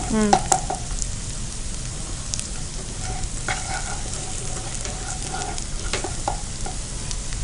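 Bitter gourd (karela) pieces sizzling in hot oil for kakarakaya kandari, a steady close frying hiss with occasional stirring scrapes and clinks throughout.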